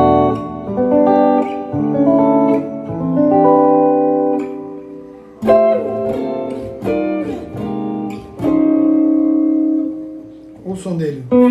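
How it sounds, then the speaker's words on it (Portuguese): Electric guitar played through a UAD Fender Deluxe amp emulation rings out in clean chords and single notes that sustain and decay, with short pauses between phrases. "nesse caso agora eu tô usando um Fender Deluxe da UAD. E ele é sensacional."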